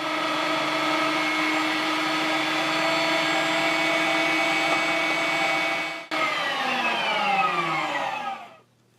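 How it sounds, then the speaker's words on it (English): Electric meat grinder working through meat and bone marrow, a steady high whirring motor drone with a brief dip midway, then winding down at the end; no voices. "As I feed it into my grinder, I'll add a little bit of meat"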